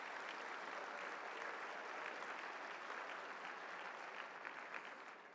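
Audience at a Habitat for Humanity HopeBuilder fundraising lunch applauding the table hosts, steady dense clapping throughout, close and full, easing off slightly at the end.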